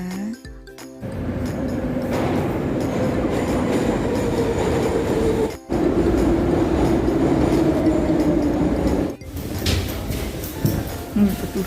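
Moscow metro train running at Chistye Prudy station, a steady loud rumble of wheels and carriage with a rising whine, brief dips and bursts as it passes, continuous and close.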